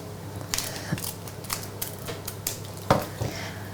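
Scissors snip open a small packet of dehydrated brioche-type yeast in a cooking workshop kitchen: a few faint clicks and one sharper cut near the end, among light handling rustles.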